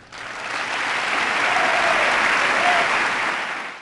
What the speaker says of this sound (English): the audience watching The Blind Side stands and applauds